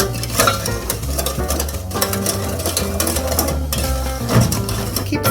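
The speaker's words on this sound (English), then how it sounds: "You stir until all the sugar melts." A spoon stirs sugar and water in a pot over medium heat while making mitai, producing busy, rhythmic scraping and clinking against the pot with a faint bubbling underneath.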